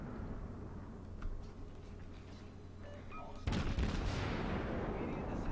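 Warship guns firing in World of Warships, with a sustained naval-battle rumble and scattered distant shots before a heavy, loud salvo boom lands about midway and rolls on as a dense roar.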